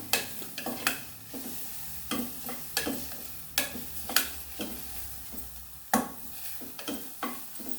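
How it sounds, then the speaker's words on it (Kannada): Sliced onions fry in a pan for drumstick fry, with a steady low sizzle broken by regular scraping strokes of a spatula stirring them, close and fairly quiet, with no talking. "ಇದು ಫ್ರೈ ಆಗ್ತಾ ಇದೆ ಇನ್ನು ಸ್ವಲ್ಪ ಫ್ರೈ ಆಗಬೇಕು"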